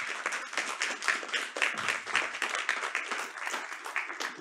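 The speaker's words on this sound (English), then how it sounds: "So please give him a round of applause and a warm welcome." A lecture audience at a Tilburg University Studium Generale session gives dense, sustained applause to welcome the speaker. Many hands clap steadily for several seconds, filling a large hall, and no voices come through.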